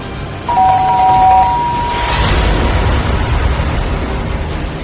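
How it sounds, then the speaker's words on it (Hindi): A doorbell chimes with a clear ding-dong, followed by a deep rumbling swell that lingers underneath, with no one speaking. "दरवाजे की घंटी फिर से बजी"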